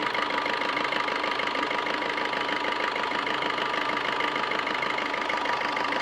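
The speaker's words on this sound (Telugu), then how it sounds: "సర్వీస్ ఇంజన్ రన్నింగ్లో ఉంది, కానీ చాలా స్మూత్ ఉందండి" A 2018 Maruti Baleno diesel engine idles steadily, close and loud, with an even, continuous knocking rumble and no voices over it.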